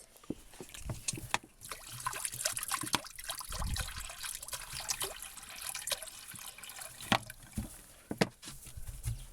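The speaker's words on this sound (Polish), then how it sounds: "Jeszcze wlejemy wody." Water poured into a container for French lop rabbits gives scattered splashes, trickles and drips, close by and uneven, with gaps of quiet between bursts.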